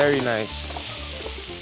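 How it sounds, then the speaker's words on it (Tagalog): Goat meat searing in a hot pan, a close, steady sizzle with a brief voice speaking at the start. "So our goat meat is nicely seared."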